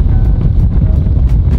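Steady wind buffeting the microphone outdoors on a golf course, a loud continuous low rumble and roar with no other distinct sounds.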